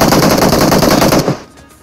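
PUBG Mobile gunfire, a loud rapid automatic burst of rounds lasting over a second before stopping abruptly, close and alone.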